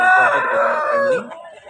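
Rooster calling at close range in a single drawn-out crow lasting over a second, strong and harmonic, tapering off at the end with faint background noise.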